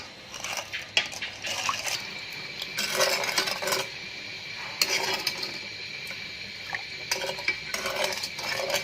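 A spoon scrapes and clinks against a pot while sugar syrup flavored with rose water is stirred for Afghan sheer pira, giving intermittent metallic taps and swishes in short bursts, fairly quiet with no voices.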